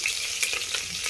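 Curry leaves fry in hot oil in a pan for a lentil curry, a close, steady crackling sizzle over a short moment.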